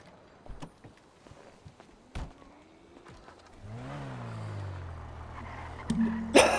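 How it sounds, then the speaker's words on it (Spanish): A car in a video game rolls in and parks, its engine rising and settling into a low idle after a few footsteps and knocks, then a sharp clunk at the end. "Voy a guardar el coche."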